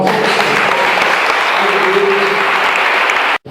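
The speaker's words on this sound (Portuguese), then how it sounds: "Vamos dar uma salva de palmas." A church congregation applauding during a missions service, dense steady clapping from many hands filling the room, loud and continuous before cutting off abruptly at the end.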